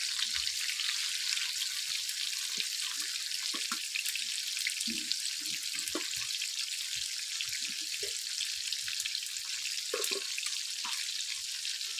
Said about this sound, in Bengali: এই দেখুন, আমার মাছ ভাজা হচ্ছে